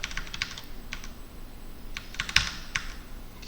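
Someone types on a computer keyboard during a frontend coding lesson, producing sparse clicks and short bursts of keystrokes with a sharper cluster near the end, close and clear, with no talk.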